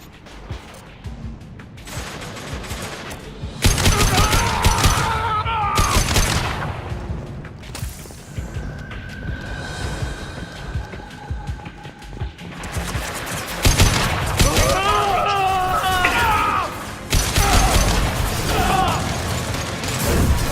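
Gunfire in the video game Mass Effect 2, dense fusillades of rapid shots and booms in repeated bursts, loud and close, with voices shouting over parts of the fighting.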